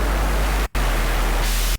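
Hissing noise from a Serum 2 synthesizer noise oscillator, a steady broadband rush that cuts out briefly twice, with no other sounds.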